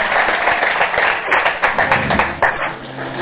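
Church congregation in Abidjan clapping together to acclaim Jesus, a dense, steady wash of many hands with a few sharper claps standing out near the end.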